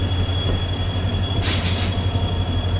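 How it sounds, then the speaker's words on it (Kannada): KSR Bengaluru–Sindhanur Express rumbling past on the line, a steady low train roar with a brief burst of hissing, squealing wheel noise midway, continuous and fairly loud with no talk. "KSR Bengaluru Sindhanur express."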